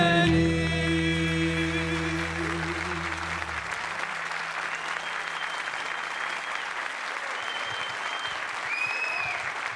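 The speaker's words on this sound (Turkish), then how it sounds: "O kadar güzel alkışladınız ki enerjiniz direkt bize de geçti." Studio audience at a television show applauds enthusiastically as the final sustained notes of a Turkish folk song die away, the clapping continuing loud and steady for several seconds.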